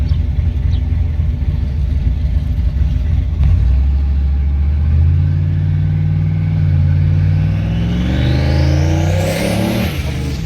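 A turbocharged LS V8 in a 1969 Chevy Nova rumbles at idle, then accelerates at quarter throttle, its loud engine note climbing steadily in pitch through the run, close and unaccompanied by talk.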